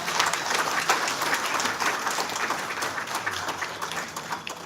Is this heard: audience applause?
yes